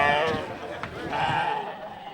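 Sheep bleat in crowded sale pens in the Zongo district of Cotonou, their wavering calls mixed with market bustle and people talking.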